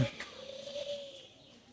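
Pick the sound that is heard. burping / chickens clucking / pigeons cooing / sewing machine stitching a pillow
pigeons cooing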